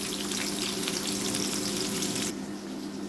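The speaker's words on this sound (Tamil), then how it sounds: "பாவக்காயை நல்லா வதக்கிட்டு அப்புறம் குழம்பு வச்சுக்கலாம்" Bitter gourd pieces salted with rock salt fry in a pan, a loud dense sizzle that runs steadily and then drops abruptly in volume near the end.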